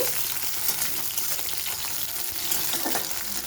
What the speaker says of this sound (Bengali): করলাগুলোকে দিয়ে দিলাম এবারে আমি ভালো করে ভেজে নেব